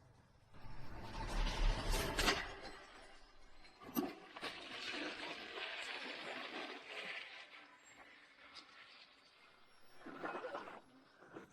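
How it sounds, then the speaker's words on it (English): A toilet flushes broken glass shards away in a long, loud rushing and swirling of water that lasts several seconds, with a brief knock partway through and a faint fading gurgle at the end. "Flush the shards down the toilet."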